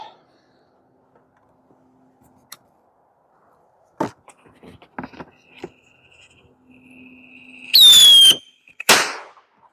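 Simulated gunfire at very close range: scattered sharp pops and cracks after a quiet start, then a loud squealing, hissing burst and one final crack, with faint sounds in between.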